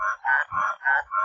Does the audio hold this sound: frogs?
yes